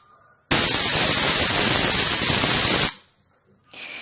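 A pressure cooker on a medium gas flame lets out a loud, steady rush of hissing steam for over two seconds, then cuts off abruptly into near quiet, with a faint hiss returning at the end.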